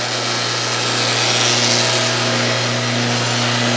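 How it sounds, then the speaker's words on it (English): An electric grinder works on the sharp ends of wrought iron for a lawn ornament, giving a loud, continuous, steady grinding whine close up with a strong motor hum. "Now the reason we grind these off is so that people don't get cut on them."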